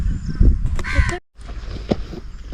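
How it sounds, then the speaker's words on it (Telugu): A crow caws loudly nearby several times, harsh repeated calls against outdoor background noise near a dam, with a short dropout in the middle. "ఏంటి కాకి, నువ్వు కూడా వస్తావా?"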